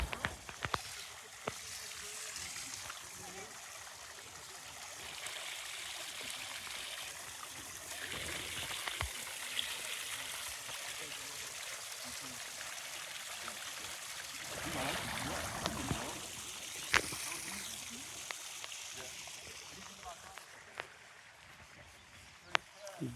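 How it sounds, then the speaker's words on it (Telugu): A water fountain at the entrance of Santa Clara University in California sends out a continuous, fairly soft splashing wash while people talk close by over it. "Water fountain."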